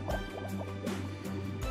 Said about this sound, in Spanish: Bubble, bubble, bubble,